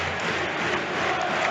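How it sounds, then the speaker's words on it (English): A Swansea football crowd fills a stadium of around 15,000 with a continuous dense roar of massed voices, steady and distant-sounding with no distinct chants standing out. "Swansea crowd starting to get their voice now"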